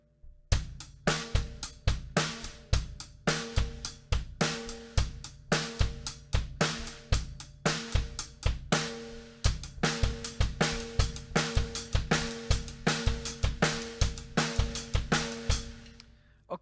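Drum kit grooves in a steady syncopated eighth-note pattern, bass drum on the and of two and three, with crisp repeated hits and cymbal wash running evenly for the whole stretch, close and alone.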